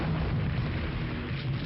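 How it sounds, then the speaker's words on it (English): Tank cannon fire aimed at a hotel room where a sniper hides, heard as dense, sustained low booming rumble with continuous heavy explosion-like noise throughout, loud and without speech. "they ask the tank gunners to fire at the room and destroy it."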